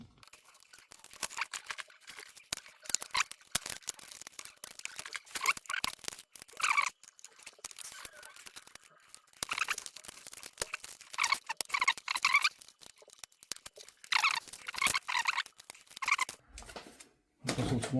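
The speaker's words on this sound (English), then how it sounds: "that will allow you to get the bezel off without damaging the screen or anything" A plastic bezel is pried off a Lenovo ThinkPad T480s laptop screen with a long run of small clicks, snaps and crackles up close, coming in bursts with short pauses.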